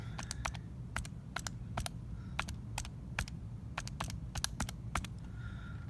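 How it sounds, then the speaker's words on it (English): Calculator keys being pressed to enter numbers: a run of quick, light clicks in small irregular bursts, close by and fairly quiet over a soft background hum. "And now just type this on the calculator"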